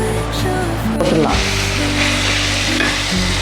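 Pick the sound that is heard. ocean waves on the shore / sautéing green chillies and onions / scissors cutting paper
sautéing green chillies and onions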